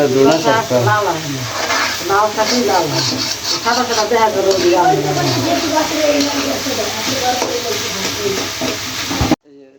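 A home-cooked curry sizzles in a pan, a steady frying hiss beneath a voice talking close by for most of the stretch, ending in sudden silence.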